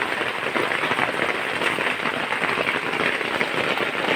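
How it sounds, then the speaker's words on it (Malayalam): Steady rain pattering on a surface, a dense, even wash of drops with no break, fairly close. "മഴ പെയ്യുന്നതും കേൾക്കുമോയെന്നറിയില്ല കേട്ടോ"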